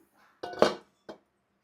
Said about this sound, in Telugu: ఇడ్లీ అయితే ఉడికిపోయినాయండి ఇంకా తీసేస్తున్నాను ఇది